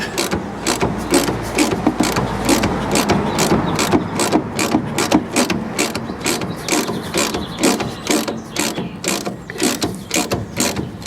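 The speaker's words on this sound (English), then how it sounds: "There's a half-inch socket at the front and a half-inch at the back, a spanner at the back." A half-inch socket ratchet clicks rapidly and loudly in a steady rhythm while loosening front suspension bolts on an MGA 1600 during restoration, close up with no talk.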